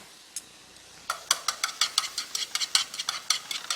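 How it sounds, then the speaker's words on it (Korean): Shredded carrots and vegetables stir-fried in hot oil with chopsticks, giving a steady rapid series of light clicking and scraping strikes against the pan over a faint sizzle, close and moderately loud. "나물류들은 젓가락으로 볶아주시는 게 좋으세요"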